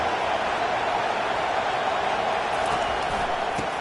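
A stadium crowd at a college football game between Utah and West Virginia roars for the defense on a big third down, a steady, dense wall of cheering and noise throughout.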